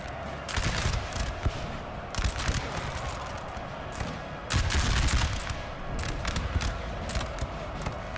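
Massed musket volleys from French skirmishers in a Napoleon Total War battle crackle in repeated bursts, dense overlapping shots rolling under a low battlefield rumble with brief lulls between louder fusillades.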